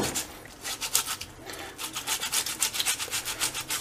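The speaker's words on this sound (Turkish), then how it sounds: "Domateslerimizi rendeliyoruz" Fresh tomatoes are rubbed against a kitchen grater for lahmacun filling, making a quick, rhythmic rasping of close, fairly soft scraping strokes repeated steadily without talk.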